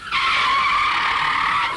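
Foley imitation of a gangster car skidding in a chase: a single sustained, shrill tire screech, loud and close, lasting about a second and a half.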